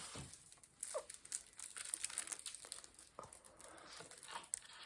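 Plastic-wrapped card decks from the Heroes of Might and Magic III board game being unwrapped, with steady close crinkling and occasional tearing of the film over about five seconds, no talking.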